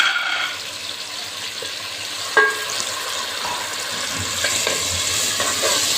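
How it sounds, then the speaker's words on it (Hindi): Spices frying with potatoes in a pan for an achari aloo baingan dish, a steady close hiss of sizzling oil with a sharp clink of a spoon against the pan and occasional stirring scrapes. "ये हम मसाले इसमें भून लेंगे।"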